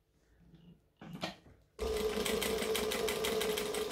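Sewing machine stitching a backpack: after a few quiet handling noises and a brief rustle, the motor kicks in with a steady, close, loud rapid needle hum that continues to the end.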